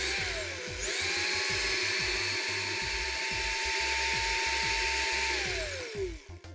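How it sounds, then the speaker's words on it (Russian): A close electric drill spinning sandpaper whines at a steady high pitch for several seconds while shaping a fishing float body, with a gritty scraping underneath, then winds down at the end. "Сейчас с помощью дрели буду формировать тело поплавка."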